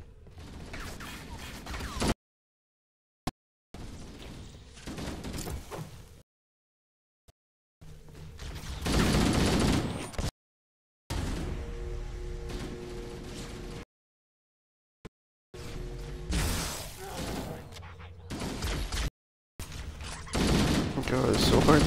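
Gunfire from Halo: Combat Evolved Anniversary comes in several dense bursts that are loud and sustained, broken by short fully silent gaps between segments.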